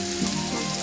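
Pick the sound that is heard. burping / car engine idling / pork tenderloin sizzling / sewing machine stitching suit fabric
pork tenderloin sizzling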